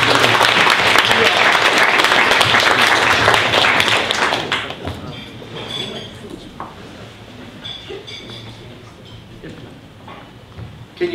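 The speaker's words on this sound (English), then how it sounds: "give them a round of applause" A tea party event audience applauds a U.S. Navy veteran with loud, sustained clapping for about four seconds, then it tapers into scattered claps and light room murmur.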